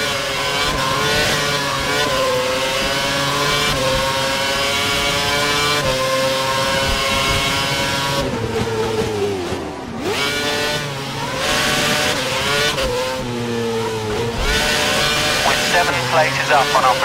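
Formula 1 car in the game F1 2011 at racing speed, its high engine whine rising and falling steadily with gear changes, loud and continuous, with a voice speaking over it.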